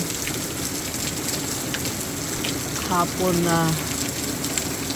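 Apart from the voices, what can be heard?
heavy rain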